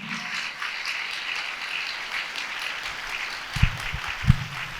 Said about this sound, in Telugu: గట్టిగా గట్టిగా చప్పట్లు కొడదాం.